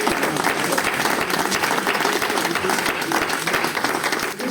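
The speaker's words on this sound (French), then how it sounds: "Est-ce qu'on peut vraiment acclamer?" An audience at a church gathering in Saumur claps and cheers loudly and steadily, dense applause filling the space throughout.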